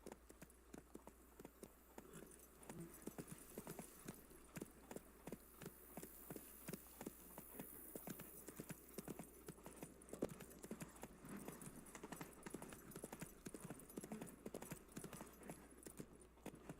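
The horse Roach trots in the video game The Witcher 3, with steady, rhythmic clip-clop hoofbeats running through the whole stretch over a soft ambient backdrop.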